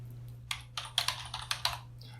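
Fast typing on a computer keyboard, a quick run of crisp key clicks in an irregular rhythm over a faint low electrical hum, close up and fairly quiet.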